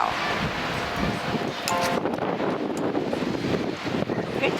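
Strong wind sweeps the seashore at Gelendzhik during a winter storm, a steady loud roar with heavy gusts buffeting the microphone and the sea rushing underneath.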